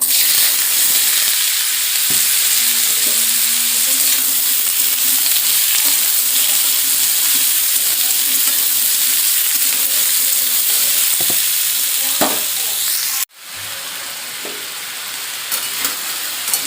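Potatoes fry in hot oil with nigella seeds and dried red chilli, giving a loud, dense, continuous sizzle that drops abruptly partway through and then resumes slightly softer.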